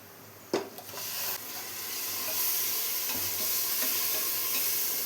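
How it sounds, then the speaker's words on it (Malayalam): Ground tomato sautés in hot spiced oil in a pan, giving a steady close sizzle with scraping stir strokes and a sharp clack of the spoon near the start. "തക്കാളി നന്നായി തന്നെ ഒന്ന് വഴറ്റിയെടുക്കാം"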